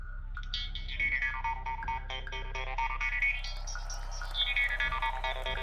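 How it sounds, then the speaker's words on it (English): Harp played alongside a breathy whisper, giving a synth-like sustained tone with bright plucked notes over a steady low hum, loud and close throughout. "But if I do that while I play the harp,"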